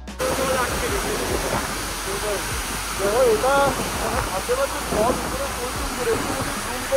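Water rushing out below the gate of Bhandardara dam, a steady broadband roar like a waterfall that fills the whole scene, with voices talking faintly over it.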